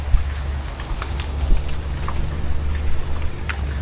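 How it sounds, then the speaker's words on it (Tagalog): Rain falling outdoors at a fish farm, a steady close patter with scattered individual drop ticks and a low background rumble throughout. "Medyo maulan dito ngayon."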